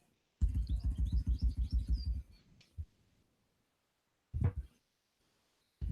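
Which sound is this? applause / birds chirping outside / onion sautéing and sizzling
birds chirping outside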